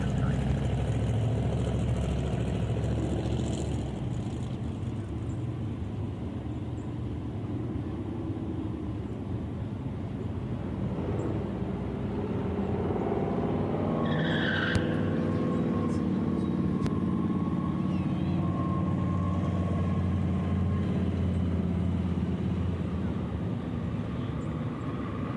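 Chevelle race cars rumble at a drag strip in Shadyside, a steady distant engine roar with a brief rising whine partway through and an announcer talking over it throughout.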